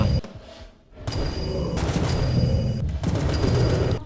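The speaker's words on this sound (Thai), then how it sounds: "เล็งไปที่หัวแล้วก็ ยิงปัง" Gunshots crack in rapid bursts in the Roblox survival game 7 Days To Live, loud and close, with brief gaps between volleys.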